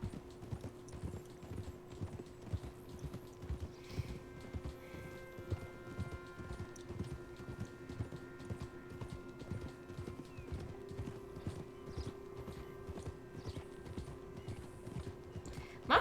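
Horse hooves clip-clop in Red Dead Redemption 2, a steady rhythmic trot of close, regular hoofbeats with game music and ambience behind.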